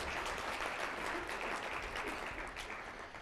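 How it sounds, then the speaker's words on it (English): A steady wash of clapping from a seated audience at an annual development day event, dense and unbroken, at moderate level with no speech on top. "give a round of applause to everybody who's been involved in Leave a Legacy."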